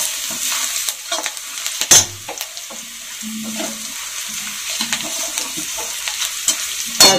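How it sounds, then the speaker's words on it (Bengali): Garlic frying in a pan for a flat bean curry, a soft sizzle broken by spatula stirs and scrapes, a couple of sharper clanks against the pan, close and alone without speech. "এভাবে ভেজে নিতে হবে।"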